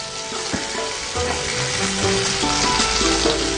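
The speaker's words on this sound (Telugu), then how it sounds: "సో హీట్ అయిన ఆయిల్లో పనీర్ పీసెస్ని ఫ్రై చేద్దాం తవా మీద." Paneer pieces fry in hot oil on a tawa, a steady close sizzle with crackling and scattered clinks of stirring throughout, no voices.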